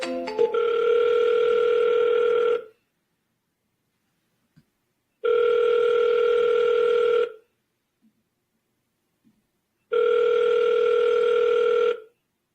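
Telephone ringback tone in three long steady bursts of about two seconds each, separated by silent gaps, loud and clear with no talking.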